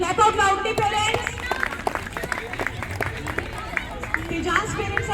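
Parents clapping at a school sports day, a sustained spread of applause with crowd babble and a voice over a loudspeaker carrying on throughout.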